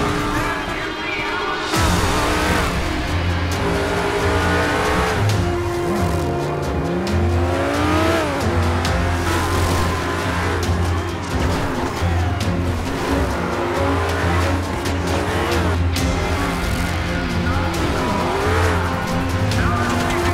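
A car chase in the video game GTA 5, with a racing engine revving hard and repeated tire squeals and skids, loud and continuous for about twenty seconds, with no talk over it.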